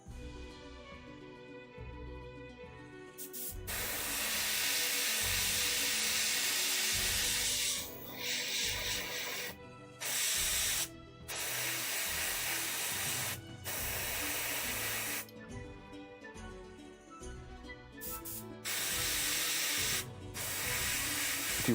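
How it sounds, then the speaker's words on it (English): A cheap airbrush from an Amazon kit sprays in long hissing bursts that stop briefly and start again, close and steady, with no talking. "If you're wondering about the airbrush, this is one of the cheapest airbrushes you can get."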